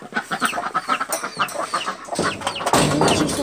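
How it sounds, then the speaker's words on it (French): A hen and her chick cluck and peep in quick repeated calls, close by, ending in a louder rustling burst; no speech. "Donc là on a la poule avec son poussin, oui."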